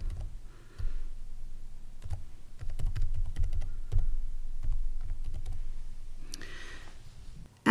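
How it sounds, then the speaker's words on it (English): An email address is typed on a keyboard, with close, steady runs of key taps and clicks over several seconds and brief pauses between them, no talking. "enter my email address,"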